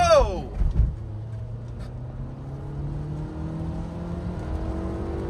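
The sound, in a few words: Renault Duster car driving and accelerating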